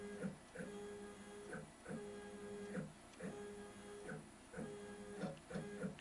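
A home-made CNC router with upgraded parts drives its Z axis in repeated short moves, each a steady whining hum that starts and stops roughly once a second, fairly close and with no talk.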